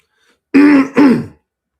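A man clears his throat twice in quick succession, close and loud, two harsh rasping bursts with a brief gap between them and silence around them.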